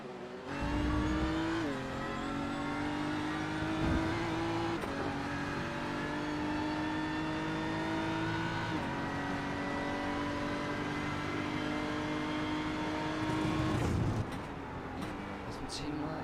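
A GT3 race car on a fast lap in a racing video game, its engine droning steadily with the pitch climbing and dropping through gear changes, while a commentator talks over it.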